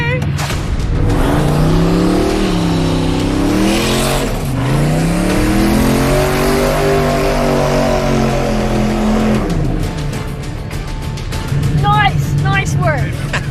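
A hot rod car performs a revving tire burnout, its loud engine sweeping up and down in pitch over several seconds with tire noise, then easing off as voices talk nearby.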